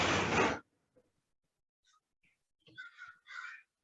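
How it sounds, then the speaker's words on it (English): Crows caw outside an apartment complex, a few faint, distant calls, the clearest a short run of two or three caws near the end, after a brief burst of noise at the start. "I can definitely hear some crowing"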